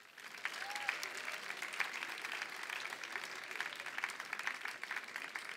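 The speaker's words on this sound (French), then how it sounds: "Vous pouvez les applaudir" High-school audience at a regional literary prize ceremony at a book festival in Paris applauds in a steady, moderate wash of clapping, somewhat distant and even throughout, with faint voices underneath.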